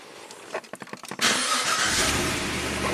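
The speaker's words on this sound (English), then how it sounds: "so we can start the car." A few quick cranking bursts, then the V8 engine of a 2006 Pontiac GTO catches and settles into a steady idle, close by.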